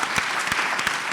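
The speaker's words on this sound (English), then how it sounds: "can I get a round of applause" Audience applause at a criminal justice policy panel, a dense steady wash of clapping filling the room with a few louder claps standing out, brief and continuous with no voices over it.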